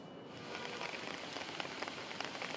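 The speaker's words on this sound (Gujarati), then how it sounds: "ધોધમાર વરસાદની શરૂઆત, વરસાદનું જોર કેવું જોવા મળી રહ્યું છે" Heavy downpour over Ahmedabad city, a dense, steady hiss of rain striking surfaces with scattered patters of drops, continuous and loud with no voices.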